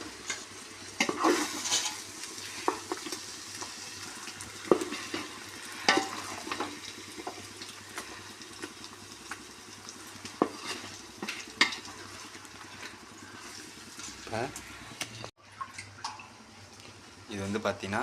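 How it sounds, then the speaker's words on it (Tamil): A spoon stirs mushroom biryani gravy in a cooking pot, with scattered scrapes and clinks against the pot over a soft sizzle. A person talks throughout. "அந்த கிரேவியோடு சேர்ந்து இதுவும் மிக்ஸ் ஆகிற அளவுக்கு நல்லா மிக்ஸ் பண்ணணும்."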